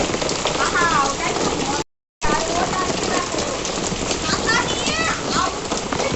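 Hail and rain from the first summer hailstorm pour steadily onto the ground and an umbrella: a dense, loud patter. Voices talk over it, and the sound drops out briefly partway through.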